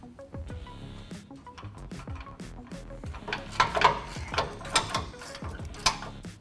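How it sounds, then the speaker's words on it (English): Ratchet clicks in quick bursts while a factory recovery point is unbolted from a 2007-2018 Jeep Wrangler JK, close and moderately loud with metallic clanks and clunks mixed in. "now we're going to remove the factory recovery point."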